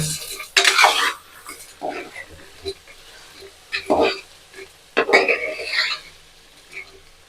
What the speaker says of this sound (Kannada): ಮಸಾಲೆ ಹಾಕ್ಕೊಂಡು ಚೆನ್ನಾಗಿ ಮಿಕ್ಸ್ ಮಾಡ್ಕೊಳ್ಳಿ